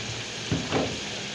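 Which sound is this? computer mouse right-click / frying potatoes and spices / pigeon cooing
frying potatoes and spices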